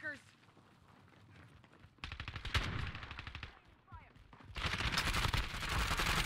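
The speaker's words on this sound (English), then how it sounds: "Somebody was shooting at me too." Rapid bursts of video game gunfire in Warzone, loud and sustained in stretches with brief pauses, mixed with a player's voice talking over the shooting.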